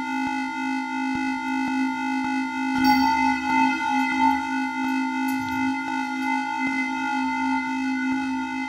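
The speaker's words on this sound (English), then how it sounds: "So it sounds like this with some reverb behind it." A sustained Korg Volca synthesizer drone with steady harmonic tones, washed in plate reverb, with faint shimmering textures drifting through.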